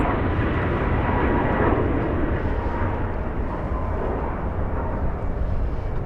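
A Flair Airlines Boeing 737 MAX 8 arriving at LAX from Vancouver, heard as a continuous, fairly loud jet roar with a broad rushing rumble that holds steady and eases off slightly toward the end.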